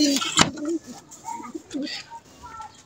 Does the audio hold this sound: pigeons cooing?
yes